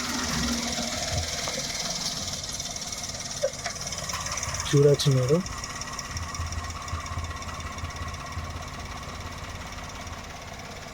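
A 2016 Maruti Suzuki WagonR engine idling, heard as a faint, steady hum with no irregular noise, while someone talks briefly nearby and a short clunk sounds midway.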